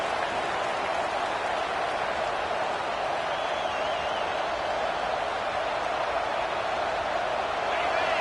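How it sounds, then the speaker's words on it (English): Steady, dense roar of a large stadium crowd at a Tennessee vs Oregon football game, loud and continuous with no breaks, a broad wash of many voices and cheering. "This crowd bringing the energy and noise early"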